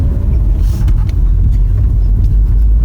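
A BMW 118i drives on the road, its steady low rumble of engine and tyres filling the cabin with a few faint knocks and rattles, no talk.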